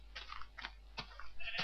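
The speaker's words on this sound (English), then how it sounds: "Got some sheep here." Sheep in Minecraft give several short bleats in irregular succession, fairly faint over a low constant hum with light keyboard clicking.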